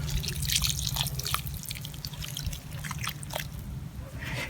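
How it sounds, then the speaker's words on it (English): Water trickles and drips onto soil in a small well dug around a newly planted rose, a soft continuous wet patter with scattered droplet splashes close by. "I'm going to water all around this little well."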